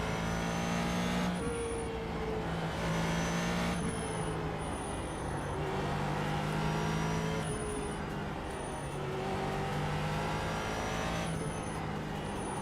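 A race car lapping Suzuka in a racing video game, its engine droning loud and continuous, with repeated gear shifts and revving as the pitch climbs and drops.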